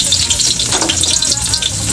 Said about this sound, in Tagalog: Mainit na po yung kawali. Ilagay na po agad natin yung bawang sibuyas